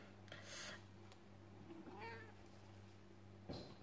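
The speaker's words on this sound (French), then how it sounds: "alors j'ai mon chat" A house cat meows at close range indoors, a few short calls over a low steady electrical hum with no talk.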